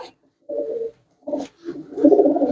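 A pet pigeon coos in short separate bursts, low throaty calls repeated three or four times close by, with brief silences between and no talking.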